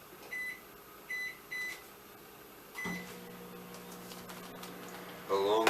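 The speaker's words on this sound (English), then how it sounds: "This here's literally going in the microwave for 15 seconds" A microwave oven hums as it heats food, with three short beeps near the start, a click and shift in its hum partway through, and a voice speaking over it at the end.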